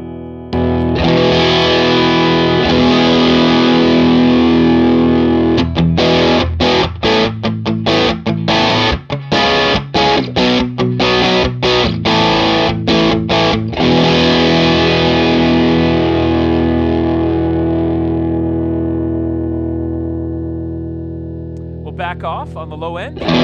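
Electric guitar played through a Matchless Hot Box preamp with distortion, a loud, sustained driven tone with a run of choppy strummed chords in the middle, then ringing out and fading near the end.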